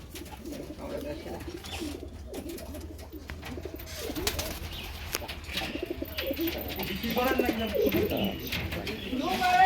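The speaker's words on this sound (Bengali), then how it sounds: "এই দেখেন, এটা হচ্ছে সাদা পায়রা" White pigeons cooing on a pigeon farm, a steady chorus of soft, rolling coos from several birds close by, with people talking throughout.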